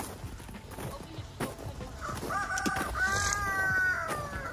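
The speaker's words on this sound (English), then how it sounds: "Come over here, little chicken." Chickens cluck and call from nearby in a rural yard, with a drawn-out crowing-like call rising toward the end, mixed with scattered rustling and background noise.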